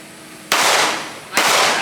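Two sharp gunshot reports, about a second apart, ring out at a USPSA shooting match, each one loud and close with a quick, decaying tail.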